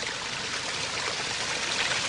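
A mountain stream rushes steadily and close by, a continuous broadband wash of flowing water with no pauses and no voices.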